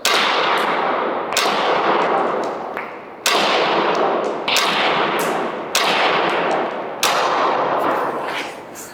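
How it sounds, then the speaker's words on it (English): Umarex TC68 air rifle fired on semi-auto, about seven sharp loud shots at roughly one-second intervals, each followed by a short decaying ring. "And we're gonna do this on semi and firing."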